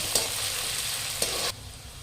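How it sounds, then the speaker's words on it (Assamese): Ginger garlic paste fries in a pan with a steady, close sizzle, two brief stirring scrapes break in, and the sizzle drops suddenly before the end. Nobody speaks. "অকণমান আদা আৰু নহৰু যে পেষ্ট কৰি লৈছো এইখিনি দি দিছো এতিয়া এইখিনি অকণমান মই ভাজিব লাগিব"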